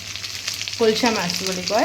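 Singhi fish frying in a pan, a steady crackling sizzle running throughout with someone talking over it at close range.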